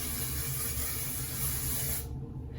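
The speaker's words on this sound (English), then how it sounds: "Okay, let's spray." A steady aerosol hiss sprays continuously for about two seconds, close and fairly loud, then cuts off abruptly, leaving quiet.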